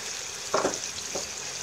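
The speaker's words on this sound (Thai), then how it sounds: "ผมใส่นี่นะครับมะเขือลงผัดเลยครับ" Eggplant being stir-fried with giant catfish in a pan for a spicy stir-fry, a steady close sizzle with a couple of brief scraping stirs, no voices.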